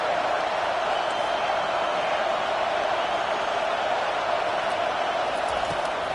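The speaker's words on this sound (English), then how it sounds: "This crowd going to try to make life miserable for these guys." Steady roar of a packed football stadium crowd in Miami, a dense continuous wash of cheering and noise at even loudness throughout with no clear breaks.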